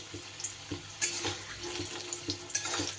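Cut potatoes fry in hot mustard oil tempered with nigella seeds and green chillies for a Thakurbari-style morich jhol. The sizzle is close and continuous, broken by stirring clinks and scrapes, with no talking.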